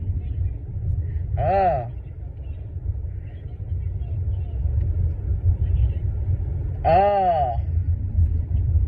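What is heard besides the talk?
car driving on the road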